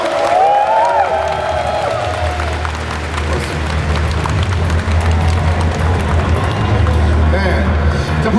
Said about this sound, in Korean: 디렉터님 다시 한번 큰 박수 부탁드리겠습니다